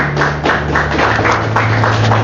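A church congregation claps their hands together, a steady rhythmic series of claps at an even pace, moderately loud over a faint organ-like hum.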